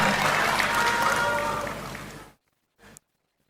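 An audience at an Indonesian youth forum gives loud applause to welcome a speaker, with a dense burst of clapping that carries for about two seconds before cutting off abruptly, followed by a brief short sound after a pause.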